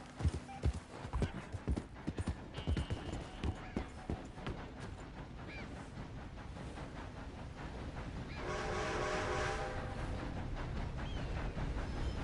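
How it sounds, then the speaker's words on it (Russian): A train rolls past in the Red Dead Redemption 2 video game, rising into a steady rumble with a sustained tonal drone over close clip-clopping horse hooves. "О, поезд едет."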